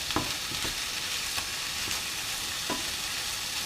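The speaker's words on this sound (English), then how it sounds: "Now you just gently want to cook these this bacon." Lean bacon, trimmed of fat, cooks gently in a pan with a steady sizzle, broken now and then by brief scraping or stirring sounds.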